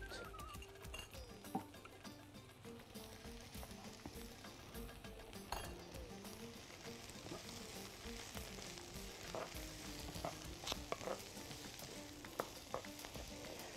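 Food sautés in a pan with black pepper, giving a continuous close sizzle and crackle with occasional light clinks and scrapes of stirring, and no talk.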